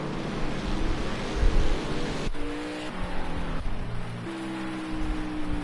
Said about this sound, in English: Yet the rain has yet to stop